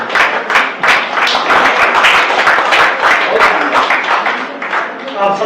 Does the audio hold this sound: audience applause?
yes